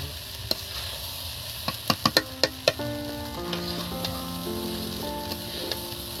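Rice frying with turmeric in a pan, a soft steady sizzle under a few sharp clicks early on, followed by sustained tonal ringing, with no talking.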